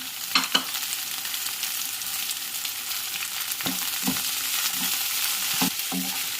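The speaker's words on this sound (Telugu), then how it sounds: "పోపు బాగా ఏగనిద్దాం." Tempering spices with curry leaves, coriander, onion and ginger fry in oil in a pan, giving a continuous bright sizzle broken by a few scraping stirs, close and steady with no speech.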